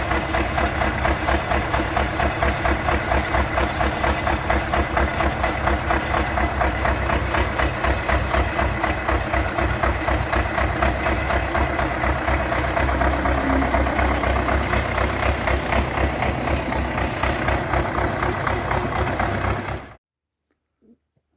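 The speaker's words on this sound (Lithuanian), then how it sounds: "Tai vat važiuojam, tempiam su traktorium, kadangi reikia iš lauko ištemti keletą akmenų" A tractor drives across a field towing stones, its engine chugging in a steady, loud, rhythmic knock for about twenty seconds before cutting off abruptly into silence.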